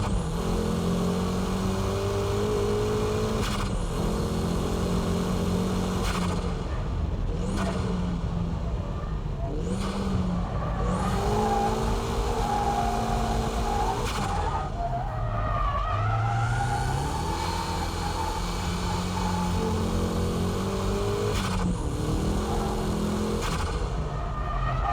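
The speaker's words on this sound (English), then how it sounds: "Here I'm power drifting at the exit." A car power drifting out of a corner, tires skidding and squealing continuously over a loud, steady engine roar that rises and falls with throttle, close and sustained throughout.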